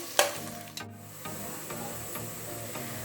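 Onions dropped into hot oil for chicken biryani start sizzling loudly, then fry with a steady crackling hiss while being stirred now and then.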